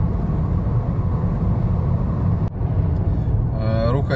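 A Nissan Altima cruising on a highway at about 80 km/h gives a steady low road-and-engine rumble heard from the cabin, continuous throughout with a brief dip midway.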